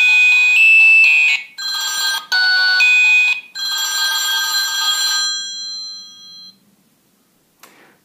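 A ringtone from an AGM M2 rugged phone plays loud and close, a repeating electronic bell-like melody in several bursts with short gaps, then stops, leaving near silence and a faint click.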